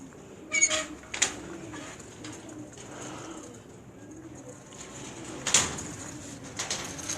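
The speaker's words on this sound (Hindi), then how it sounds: "ये आप मेरी स्क्रीन पर जो कबूतर देख रहे हैं" Soft pigeon coos repeat nearby over a quiet background on a rooftop in Sialkot, with a few sharp bird calls and clatters breaking in.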